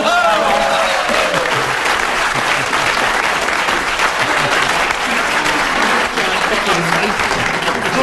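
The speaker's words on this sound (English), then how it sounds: "He certainly deserved his round of applause for keeping going" A studio audience applauds loudly and continuously for eight seconds, a steady dense roar of clapping that opens with a voice trailing off beneath it.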